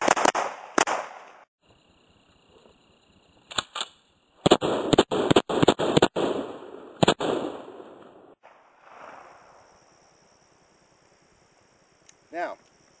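Colt 1911-style pistol firing a string of sharp shots, several quick cracks in a row after two earlier reports, loud and close, with a brief voice afterward.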